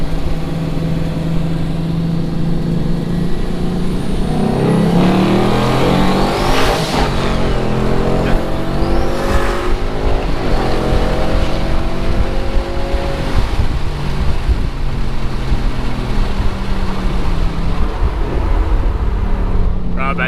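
Twin-turbo car racing down a wet, slippery straightaway, engine roaring loud and continuous as it accelerates hard with rising and falling revs through gear changes, wheels spinning, wind and road noise throughout.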